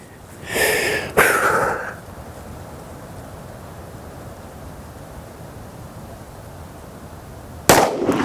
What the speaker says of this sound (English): I keep that pistol out on the target, follow through, prep for another shot.